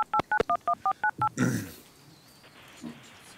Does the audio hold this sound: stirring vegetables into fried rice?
no